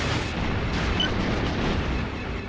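Laser blasts and explosions as cargo containers are shot apart in Star Wars X-Wing Alliance, a dense continuous roar of booms and crackling bursts with no clear gaps.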